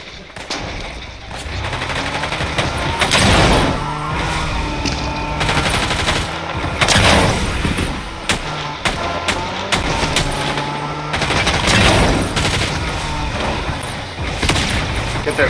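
Rapid shotgun and automatic gunfire in a Fortnite match, loud and continuous with dense bursts and booms across the whole stretch, with occasional voices underneath.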